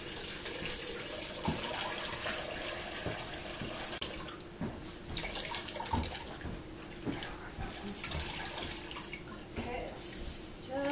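Water splashes and sloshes as washed wool fleece is rinsed by hand in a bucket of hot water, an uneven, close run of pours and drips at moderate level throughout.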